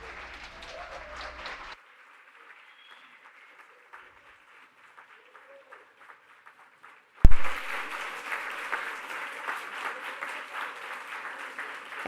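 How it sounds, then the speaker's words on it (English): Audience at a Brazilian philanthropy forum bursts into loud, sustained applause after a quiet pause, with dense clapping from a large crowd continuing to the end; a brief stretch of talk and background noise comes before the silence. "I would like you to give them a round of applause."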